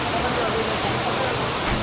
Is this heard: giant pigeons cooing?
no